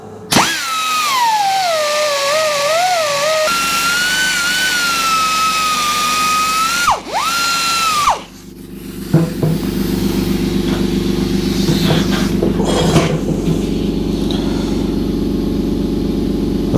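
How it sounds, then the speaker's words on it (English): A small belt grinder radiuses the edges of a Royal Enfield engine part, with a loud high motor whine that rises and dips, then a steadier rough grinding drone as metal meets the belt. "just simply go in with the radius on the little belt grinder"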